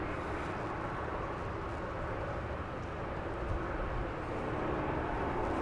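A Southwest Boeing 737-700 airliner arriving at Dallas Love Field after a flight from Houston Hobby, heard as a steady, broad jet roar that holds at an even level throughout with no talk over it.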